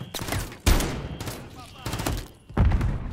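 Shotgun fire in the video game Call of Duty Modern Warfare 3, several loud booming blasts spaced about two seconds apart with game noise between them and voices mixed in.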